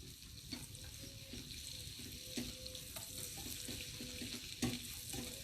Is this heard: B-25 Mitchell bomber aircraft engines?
no